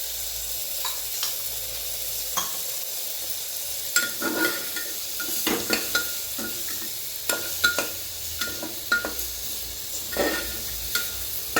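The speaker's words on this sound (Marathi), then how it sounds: "हे मिश्रण असं 2-3 मिनटं मी चांगलं परतून घेणार आहे आता." Carrot and pea pulao mixture frying in ghee, a soft continuous sizzle punctuated by frequent spoon scrapes and clinks against the pan as it is stirred, close and fairly quiet.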